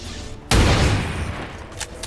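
A single heavy shot from an XCOM 2 soldier's weapon in the Long War of the Chosen mod, opening with a loud sudden blast and a long rumbling decay, with a couple of faint clicks trailing near the end.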